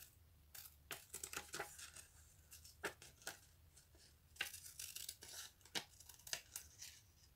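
Scissors snip through cover material at an angle in a series of sharp, close crunching cuts with brief pauses between, quiet overall, with no talking.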